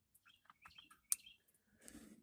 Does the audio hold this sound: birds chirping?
yes